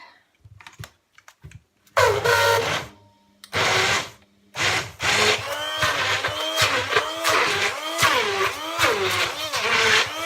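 A blender chops and blends food for a homemade doner kebab in short loud whirring bursts with pauses between them, then a longer grinding run whose pitch wavers as the contents churn.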